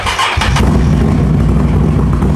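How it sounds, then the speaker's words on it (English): A Can-Am Outlander ATV engine with an aluminum skid plate cranks briefly and then catches, settling into a loud, close, rumbling idle with no voices. "we're just going to tap the starter, just bump it over"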